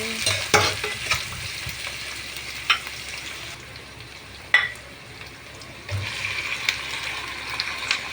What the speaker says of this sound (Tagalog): Nilagay na natin ang ating sibuyas. Ayan. Gisa-gisa lang mga mamsi.